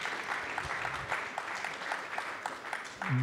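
An audience applauds for Marie Patouillet, world paracycling vice-champion, a steady mass of clapping that fills the room before a voice starts speaking at the very end.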